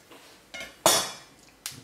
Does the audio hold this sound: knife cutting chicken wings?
yes